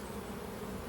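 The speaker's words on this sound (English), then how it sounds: "we'll let these bees hopefully just find their way back over here" Honeybees buzzing close around a hive, a dense continuous hum from many insects with no voices, steady throughout.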